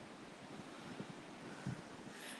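Ocean waves wash steadily at the Bogey Hole, a rock-cut ocean pool also called the Commandant's Bath, a faint broad surf rumble mixed with wind buffeting the microphone, no talking.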